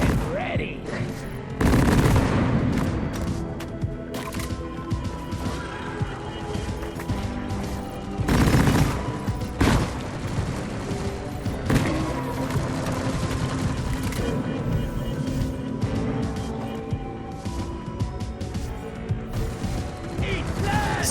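Haz-7 Lok-1 smart rifle fire in a video game, with repeated rapid bursts and sharp gunshots, several heavy booms and mechanical clatter over about twenty seconds, and a voice talking at points.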